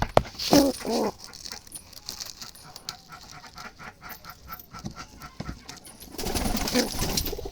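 Jalali wild pigeons coo and flap their wings in a loft, with a burst of wingbeats at the start and again near the end, soft calls and rustling in between.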